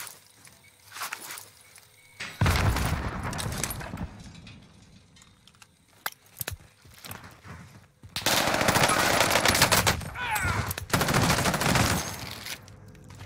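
Bursts of MP40 submachine gun fire in Warzone, two long sustained volleys that are loud and close, with scattered shorter shots and clicks between them.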